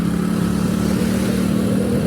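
Motorcycle engine revving steadily in first gear, a loud, continuous close drone with no speech.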